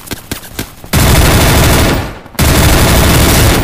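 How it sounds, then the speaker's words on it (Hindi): A shotgun fires in the mobile shooter Free Fire Max, with a few sharp close shots first, then two long, dense bursts of loud gunfire separated by a short gap. "ये वाला शॉर्ट गन।"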